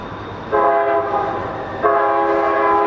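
Train horn blasting twice near a courthouse, each long harmonic blare held over the rumble of a passing train, loud and close with no talk.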